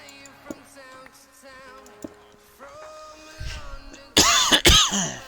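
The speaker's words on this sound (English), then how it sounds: "Sorry for coughing." Two loud, rough coughs burst out near the end, close by, after a stretch of quiet background tones and faint clicks from Minecraft gameplay.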